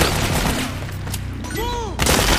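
Gunfire in the Metal Gear Solid 4: Guns of the Patriots battlefield, a brief burst of rapid shots over dense combat noise, with shouted voices mixed in.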